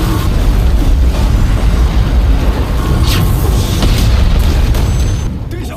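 A character's body self-detonates in an animated battle scene. A loud, sustained booming explosion rumbles heavily in the low range with crackling bursts on top, then falls off sharply at the end.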